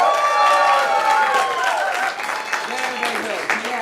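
Improv comedy audience cheering wildly and applauding on cue, a dense burst of clapping and whoops that stays loud and close, then tapers slightly as voices carry on.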